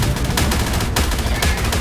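Explosions in the ARK Primal Fear Chaos Guardian boss battle: a dense, loud, rapid run of blasts and crackling bursts, like heavy gunfire, filling a short stretch without speech.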